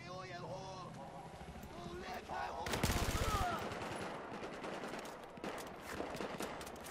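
Battlefield 4 gameplay with bursts of automatic gunfire and rapid shots amid busy battle noise, loudest around the middle, while people talk over it.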